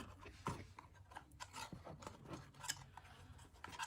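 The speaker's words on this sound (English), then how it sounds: "take our ribbon and cut it" Scissors snip through ribbon during assembly of an Easter egg shaped decorative box, giving a few quiet close rasping cuts with no talk.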